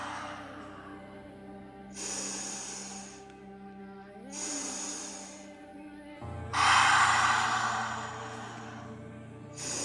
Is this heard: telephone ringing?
no